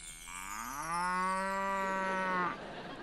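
A person imitates a cow mooing, producing a single long, rising-then-level moo lasting about two seconds, close and clear with a resonant, voiced tone before it cuts off.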